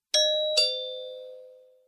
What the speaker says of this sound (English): Mummy Pig rings the doorbell.